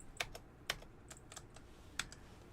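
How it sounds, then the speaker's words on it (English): Computer keyboard keys being typed in a few quick, separate bursts, fairly close and quiet, with no talking. "you select and you type in ash"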